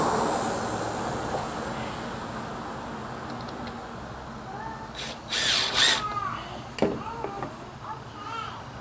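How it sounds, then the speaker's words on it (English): A power drill drives a couple of screws into a folded 55-gallon drum cattle protein feeder, whirring in short bursts over a steady low background. "sunk a couple screws in there to hold it to where it stay the right size"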